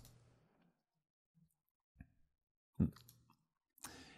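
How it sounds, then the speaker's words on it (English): A mouse double click while editing a title in PowerDirector gives a couple of soft, sharp clicks in a quiet room, followed by a few more faint taps. "So I'm going to double click on this title."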